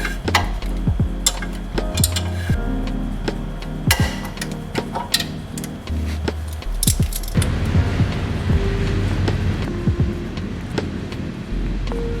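A torque wrench tightens the upper strut bolts on a Ford Grand Marquis, with close metallic clicks, clanks and ratcheting taps scattered irregularly over a low background hum.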